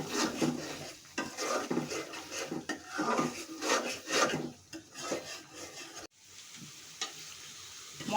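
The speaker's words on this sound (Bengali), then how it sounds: "একটু নেড়ে দিলাম।" Chili-spiced masala being stirred as it fries in a pan for a spicy meat curry: a soft sizzle under repeated scraping strokes of a spoon against the pan, close and moderately quiet, with no talking.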